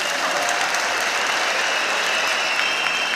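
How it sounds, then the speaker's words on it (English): A crowd at the launch ceremony of the ZIFA Munhumutapa Challenge Cup football tournament in Zimbabwe claps loudly and continuously, a dense, even wash of applause. "A big round of applause for our guest of honor."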